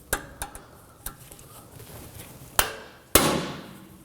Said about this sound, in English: We're going to start by removing the rotor bolt by using an impact driver.